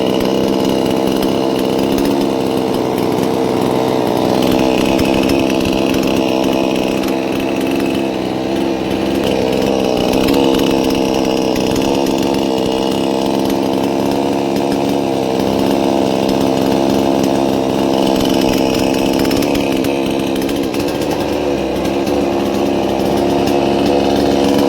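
A second-hand chainsaw runs continuously, its two-stroke engine a loud, steady buzz with slight rises and dips in revs, heard up close with no talking.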